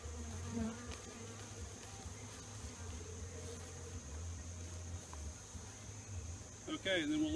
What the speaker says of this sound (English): we've got have the bees trapped in with our powdered sugar